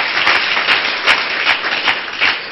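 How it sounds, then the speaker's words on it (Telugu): A church congregation bursts into loud, sustained clapping, a dense wash of many hands with rhythmic swells, close and filling the room without talk. "గట్టిగా ఒకసారి చప్పట్లు కొడితే యేసుని కనపరుస్తాం"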